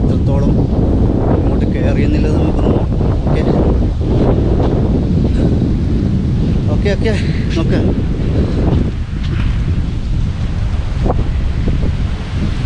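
Steady roar of sea waves and gusting wind buffeting the microphone at a small beach on a morning ride, loud and continuous, with a voice speaking briefly over it.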